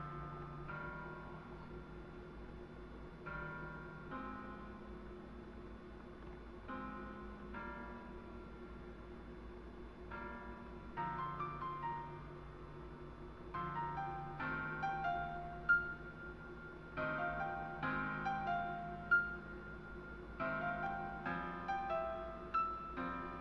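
Soundtrack ending from Bad News, rendered in the MuseScore sound font, plays soft bell-like and keyboard tones in shifting chords, quiet throughout and gradually building slightly in density, with no voices.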